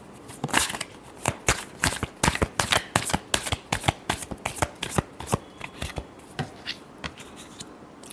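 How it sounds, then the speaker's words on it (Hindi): Tarot cards being shuffled close up: a steady run of crisp riffling snaps and soft slaps of card stock, repeated rapidly for several seconds, with no voice over them. "Last shuffle."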